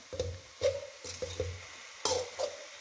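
Pathila thoran, a Kerala leafy stir-fry, stirred in a pan, six or so distinct scraping and knocking strokes with a soft sizzle between them, close and quiet.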